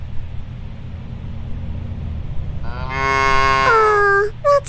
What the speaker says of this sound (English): There's a bunch of cows on the field.